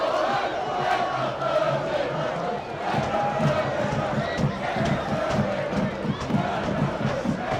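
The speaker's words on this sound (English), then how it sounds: "we're getting chants from the Huddersfield guys just saying mean things about Bradford" Huddersfield supporters chant at a university varsity rugby union match, a dense crowd roar of rhythmic shouting that carries on steadily throughout, with a voice or two standing out now and then.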